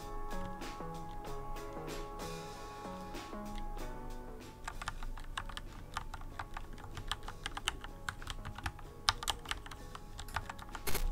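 Typing on a mechanical keyboard fitted with Gateron Yellow Pro 2.0 linear switches, a close run of quick, crisp clacks picking up pace over a faint musical bed, with no speech.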